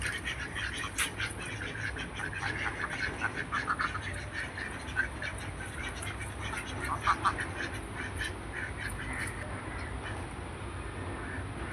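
Ducks quack repeatedly in a garden behind a dargah in Dandi, Gujarat. Their calls come in irregular bursts over a steady outdoor hum, and no one speaks.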